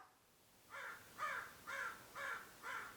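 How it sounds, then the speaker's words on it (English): A crow cawing five times in a steady rhythm, each call harsh and fairly close, with no talking. "Oh my god, this crow."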